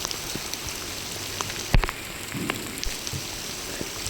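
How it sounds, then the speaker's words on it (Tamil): Heavy rain pouring outdoors during a Diwali-day tree-planting outing, a steady dense hiss of drops striking surfaces with a brief louder knock midway, no voices. "செம்ம மழை"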